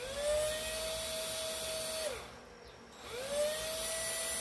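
A small electric wood engraver whines steadily at high pitch, winding down briefly, pausing for about a second, then spinning back up to speed; close and continuous, with no talk.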